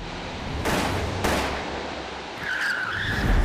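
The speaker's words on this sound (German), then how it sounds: "Der hat den Reifen geschossen." Gunshot striking a car tire during a pursuit, two sharp broadband bangs in quick succession over a rumbling engine and road noise, followed by a rising tire squeal.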